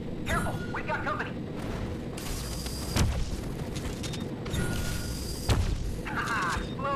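Explosions and bursts of weapon fire in the Farlight 84 video game, several heavy booming hits recurring every few seconds over a dense rumbling battle bed, loud and close.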